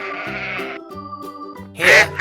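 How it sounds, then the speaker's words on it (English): A sheep bleats in a wavering, nasal cry over a stretch of tonal sound, then a louder, brighter burst closes the moment, with no talking. "This is a sheep."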